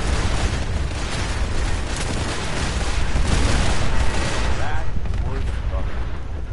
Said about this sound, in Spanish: Pues ya empiezan a explotar.